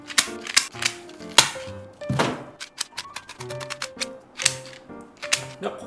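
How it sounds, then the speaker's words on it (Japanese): Scissors cut the fins off a large fish. The cuts come as a fast run of sharp, close clacks and thunks, uneven in rhythm and fairly loud. "ヒレをハサミで落としていきます。"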